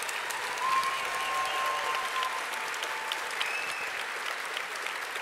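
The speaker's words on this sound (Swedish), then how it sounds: "En stor applåd." An audience applauds at the award ceremony of a Swedish cooking competition final, sustained, steady clapping throughout with a faint tone in the background.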